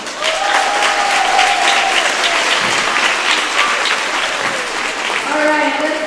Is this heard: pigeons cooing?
no